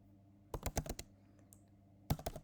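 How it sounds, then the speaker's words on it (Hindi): Close keyboard typing on a computer during JavaScript coding, a quick cluster of keystrokes, a pause, then another short burst ending in a firm Enter press; no talking. "एंटर करते हैं।"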